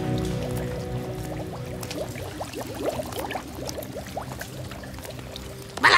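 Water pours from a turned-on tap in the animated series W.I.T.C.H., a steady close gurgling stream with bubbly splashes, ending in a sudden louder burst.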